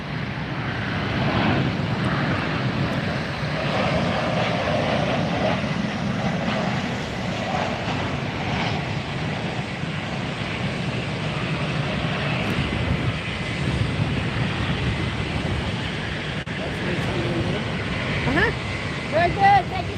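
A Douglas DC-3 propeller airliner takes off at Fort Lauderdale, its steady, loud engine roar holding for the whole stretch with a broad rumble and some wind noise, while voices talk faintly underneath.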